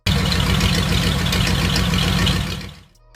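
A Ford flathead engine fires up and runs with a loud, steady low chugging rumble at close range, then cuts out abruptly near the end, leaving brief quiet.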